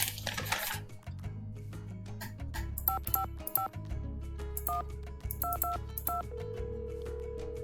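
Telephone keypad tones in a Nancy Drew mystery game, a quick series of distinct beeps pressed in short bursts with irregular pauses, ringing clearly over a low steady hum.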